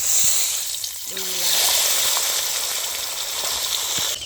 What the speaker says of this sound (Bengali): এইবারে ভেজে নেব এই মাথা, কাতলা মাছের মাথা।